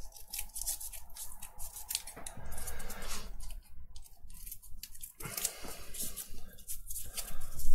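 Several crisp snips of scissors cutting through stiff cardboard, close up, in short bursts with brief pauses between.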